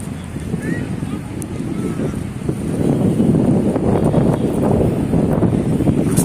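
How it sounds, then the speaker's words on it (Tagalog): Strong wind buffets the microphone over Manila Bay, a loud continuous rumble that swells midway, with a wash of water beneath it. "Lakas ng hangin mga kababayan."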